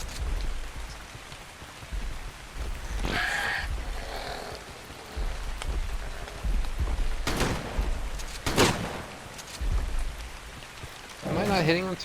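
Steady rain falls in a survival dinosaur game set on an archipelago, with a few brief sharp bursts that may be distant thunder, and faint talk in places over the constant hiss.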